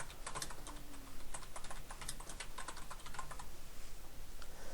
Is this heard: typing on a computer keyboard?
yes